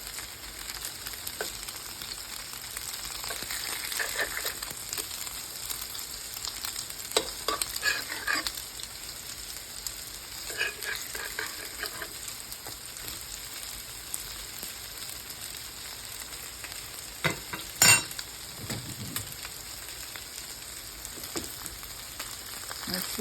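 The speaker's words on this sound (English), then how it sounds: "We're going to keep turning these till they're totally cooked through." Food sizzles steadily in a pan at home while a spatula turns and stirs it, with occasional scraping clicks over the continuous frying hiss.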